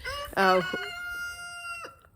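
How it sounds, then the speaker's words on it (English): A rooster crows loudly and close by, one full strained call with a harmonic rise and long trailing tail. "thank you, Mr. Rooster"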